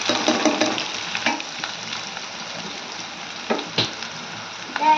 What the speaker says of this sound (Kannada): ಈಗ ನಾನು ಮೆಣಸಿನ್ಕಾಯಿ ಕರಿಬೇವು ಉಳ್ಳಾಗಡ್ಡಿ ಎಲ್ಲ ಒಮ್ಮೆ ಹಾಕ್ಲತ್ತೀನ್ರಿ